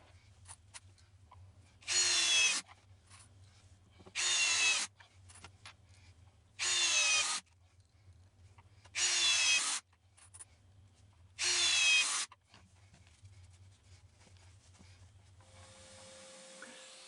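A power drill sinks pocket screws into the maple top of a king-size headboard in five separate whirring bursts, evenly spaced with quiet pauses between them, loud and close.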